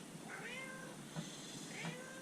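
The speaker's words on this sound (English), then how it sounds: "So, can you hear that, cat?" A house cat meows twice indoors in a home kitchen, two drawn-out, moderately faint calls about a second and a half apart over a low background hiss, with no talking.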